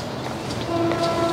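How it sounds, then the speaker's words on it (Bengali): A train passes near a gated housing complex close to a national highway, a steady broad rumble with a sustained horn-like tone sounding in the second half, fairly loud and with no talking. "দেখুন, ট্রেনের আওয়াজ শুনতে পাচ্ছেন।"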